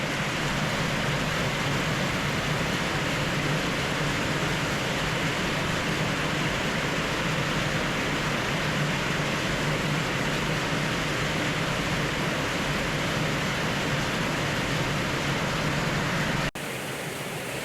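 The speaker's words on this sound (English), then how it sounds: "Can you hear that rain?" Heavy wet-season rain in Chiang Mai, Thailand, roars as a dense, unbroken broadband hiss. It continues steady and loud, then drops off abruptly near the end.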